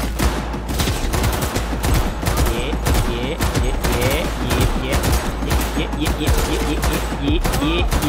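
Rapid automatic gunfire in the video game Cyberpunk 2077, dense and continuous bursts of shots filling the whole stretch, loud and close with no clear breaks.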